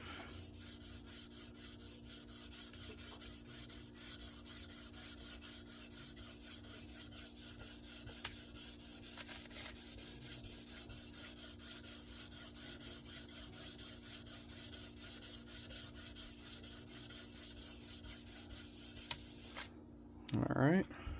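A Case Sodbuster knife blade is sharpened on a TS Prof Kadet Pro stone with a steady, continuous rasping scrape of rapid back-and-forth strokes. The scraping stops just before the end.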